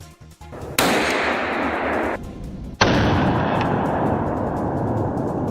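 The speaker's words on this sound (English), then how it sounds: "a rapid burst of gunfire rang out." Gunfire during a wild boar hunt: loud sharp blasts that ring out with long echoing tails, one after another, followed by a rumbling wash of noise.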